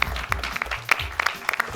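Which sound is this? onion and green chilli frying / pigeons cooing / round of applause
round of applause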